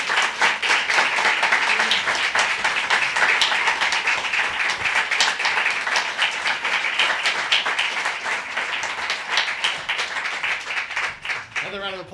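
Sustained applause from a poetry reading audience, dense clapping of many hands that holds steady and loud throughout before tapering off at the very end.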